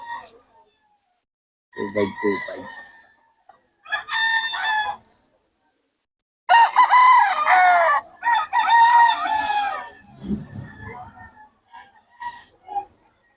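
A young rooster (stag) crowing nearby: several loud, ragged crows and short calls spread across the stretch, with people talking in between.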